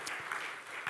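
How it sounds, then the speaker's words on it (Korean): A church congregation applauds the choir during a Sunday worship service, a steady wash of clapping that holds evenly through the brief moment. "오늘 성가대 잘했으니까 박수로 하여 수고하셨습니다."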